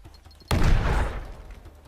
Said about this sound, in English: Terrible grenade throw, but a very nice explosion.